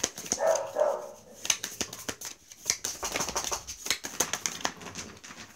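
Dogs play with a bottle indoors, producing irregular crinkles, knocks and scraping clatter with a few short barks mixed in, close and fairly loud throughout.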